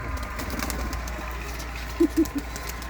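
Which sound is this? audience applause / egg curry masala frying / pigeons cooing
pigeons cooing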